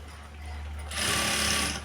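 Sewing machine stitching a blouse, a close steady mechanical whir with low motor hum that grows louder and busier partway through, running alone without talk.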